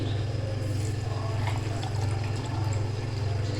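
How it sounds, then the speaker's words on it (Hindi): Water from two glasses poured into fresh pomegranate juice in a home kitchen, a steady close liquid rush with a low hum underneath and no voices. "और अब हम इसमें ऐड करेंगे 2 गिलास पानी।"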